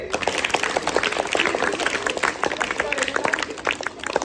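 A group of people clapping at an event, a busy, uneven patter of hands with scattered sharp claps, mixed with voices and crowd noise throughout.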